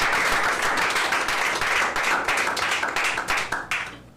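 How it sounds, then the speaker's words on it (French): An audience at a reading competition applauds a reader, with dense, close hand clapping that holds steady and then thins out and fades toward the end. "Je vous demanderai bien sûr d'applaudir Frédéric"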